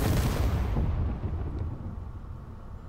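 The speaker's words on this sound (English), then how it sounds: "Firing again. Firing a third." A single loud, booming weapon shot hits ablative armor panels in the Space Engineers video game, a sharp blast at the start that fades slowly into a low rumble with no one talking over it.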